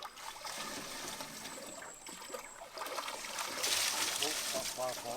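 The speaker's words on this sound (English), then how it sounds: "But the intake's working well." Water pours steadily over a Coanda screen hydro intake on a small North Wales hydroelectric system, a continuous rushing trickle that grows slightly brighter and louder toward the end, with faint voices in the background.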